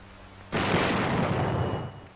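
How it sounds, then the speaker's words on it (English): A mortar round fires with a sudden loud boom in a historical military training film, followed by a sustained rumbling roar that slowly tails off, with no talk. "A mortar."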